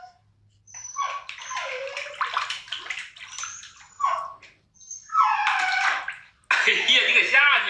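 A Labrador puppy splashes and sloshes in bath water during a home bath, with bursts of wet movement near the microphone while people talk over and between the splashes.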